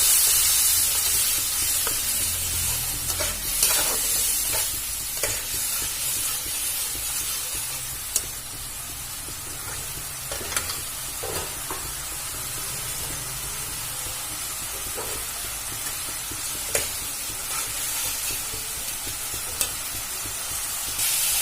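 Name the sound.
chili-turmeric paste frying and being stirred in pan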